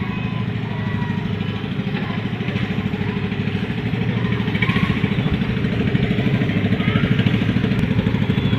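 A motorboat engine on a river drones steadily and loudly, a constant mid-pitched rumble with no pauses.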